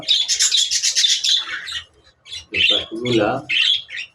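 Caged budgerigar parakeets squawk and chirp in a rapid, loud burst of harsh calls, then pause and call again in shorter bursts, with a person talking over them.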